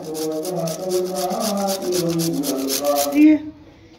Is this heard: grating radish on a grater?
yes